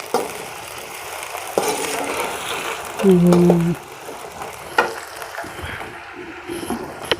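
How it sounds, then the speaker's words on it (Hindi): Potatoes fry in hot oil in a karahi for aloo karahi in a village kitchen, with a soft sizzle broken by scraping stirs and a brief louder clatter midway, while a voice talks over it. "तो इनको इतना फ्राई कर दूँगी कि आधे गल जाएँ"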